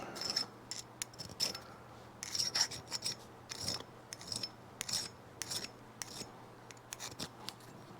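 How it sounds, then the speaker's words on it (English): A small hand file rasps across a metal kickstarter shaft on a Yamaha 125/175 Enduro, in short, irregular scraping strokes with pauses between, close and fairly quiet. "I just take a little file and just kind of clean up around there"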